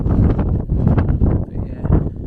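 Steady, heavy wind buffeting the microphone in Ushuaia, producing a continuous low rumbling roar with gusty swells throughout.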